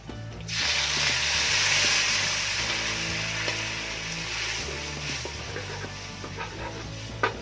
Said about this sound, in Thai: จากนั้นใส่น้ำสต๊อกกุ้งลงไปนะครับ